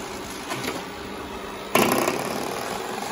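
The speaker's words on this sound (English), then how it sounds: "Brushes do spin really fast." A Proscenic M7 Pro robot vacuum whirs steadily nearby as its brushes spin, a high-pitched hum that grows louder partway through.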